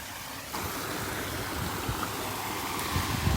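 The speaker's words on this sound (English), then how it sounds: "the water just naturally finds that way and works its way down in here" Water trickles and flows steadily down over a rock divot into a pond, a soft, continuous close splashing wash with no voices.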